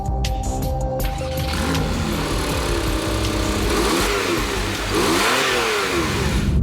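A turbocharged 2016 Porsche 911 Carrera S engine revs up and down repeatedly, its pitch rising and falling in sweeping waves, loud and close with a steady underlying drone.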